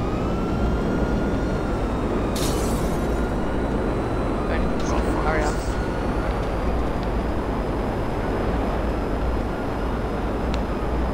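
A steady, loud rotor and engine drone from a helicopter in GTA 5 fills the whole stretch, with voices chatting over it.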